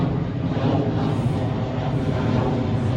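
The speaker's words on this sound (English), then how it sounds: "It's a lot of airplanes passing by," A steady broadband roar of a passing airplane fills the air, a constant, moderately loud drone with slight swells.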